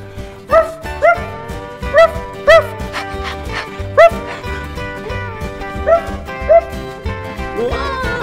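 Cow dogs kept in a ranch barn bark repeatedly, about eight sharp, loud barks at uneven intervals, with yips and whimpers between them.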